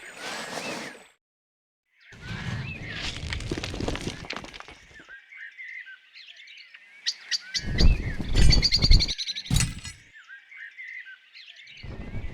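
Bird chirping in the Piglet's Big Game video game: bright, repeated tweets in bursts with gaps between them, alongside other game sound effects.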